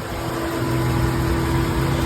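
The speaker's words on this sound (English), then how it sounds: "Just took the truck out for a ride." A 2014 Dodge Ram 1500 pickup truck's engine running while driving, a steady, close, continuous rumble with no talk.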